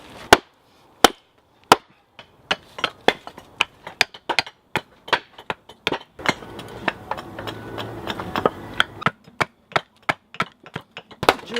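Sharp, evenly spaced chopping strikes on wood, split from a blank for a carved spoon handle out in the woods; about two dozen loud close blows, faster in the middle, with a faint rustle between hits.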